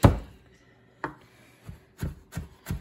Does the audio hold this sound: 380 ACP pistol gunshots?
no